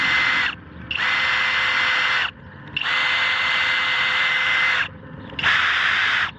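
A Kobalt 24-volt XTR cordless drill whirs in three steady bursts with short pauses between, loud and close, with no other sound.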